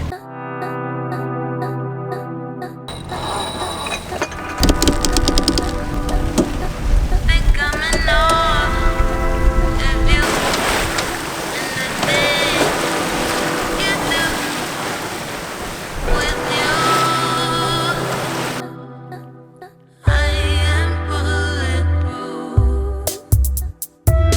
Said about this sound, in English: after a few days of not sailing, it is so nice, especially to have like a good sail